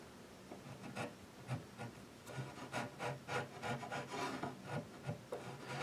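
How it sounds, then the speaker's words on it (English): Hand scraping and chiseling at a soft foam surface makes quiet, rhythmic rasping strokes, a close and faint series of short rubbing scrapes repeating about every half second. "A combination of scraping, a little bit of chiseling,"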